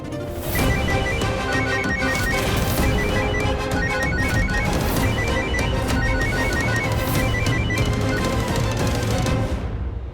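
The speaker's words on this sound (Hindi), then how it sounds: "आपका फोन कब से बज रहा है?" A phone rings continuously and loudly in an electronic melodic tone, repeating steadily over a dense, busy background with no talking.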